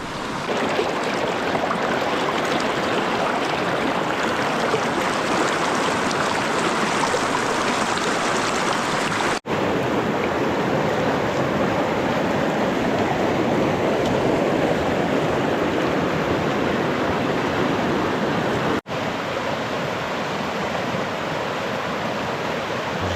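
Steady rushing of a flowing river, a continuous broad wash of sound with no pauses, loud and close.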